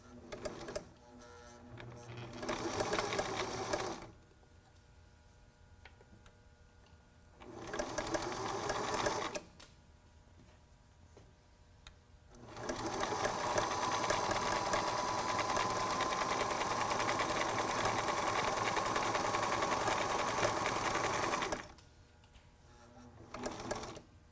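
A sewing machine stitches a T-shirt face mask in three loud runs, the longest lasting several seconds, with quiet pauses between them as the fabric is guided through thicker layers.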